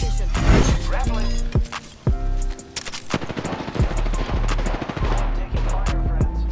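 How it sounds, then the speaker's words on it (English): Rapid automatic gunfire in Apex Legends, loud bursts and single shots repeating over several seconds amid game effects, with in-game voice callouts heard between shots. "Taking fire, friends."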